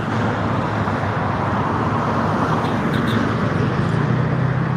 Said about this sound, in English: that traffic finally started moving so that car could go on